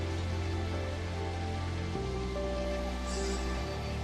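Steady rain hisses in the Final Fantasy XIII-2 game world, a continuous even patter layered over soft sustained musical tones that shift pitch partway through, with no voices.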